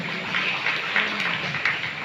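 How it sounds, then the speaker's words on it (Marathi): Applause from a live stage-show audience, a steady broadband patter of many hands clapping that holds evenly throughout with no voices over it. "एकतर जोरदार त्यांच्यासाठी टाळ्या वाजवून द्या."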